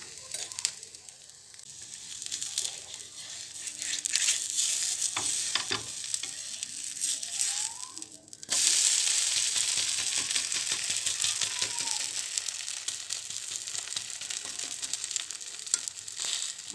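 Whole wheat adai batter fries in oil in a pan, a steady close sizzle that thickens and grows louder partway through, with faint clicks and scraping.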